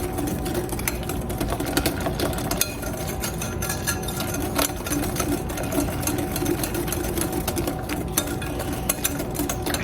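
Electric mixer beating egg custard pie filling in a high-sided bowl, a steady close whirring drone with light rattling clicks throughout.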